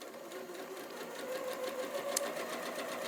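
An Elna 720 PRO sewing machine stitches with a roll hemmer foot folding fabric, giving a steady rapid mechanical whir and chatter that runs alone and fairly close throughout.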